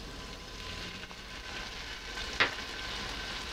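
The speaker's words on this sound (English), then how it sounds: "Deglaze with the sherry wine" Sherry wine hits a hot pan where chicken livers were seared, giving a steady, moderately loud hiss and sizzle with a brief sharp burst partway through, and no talk.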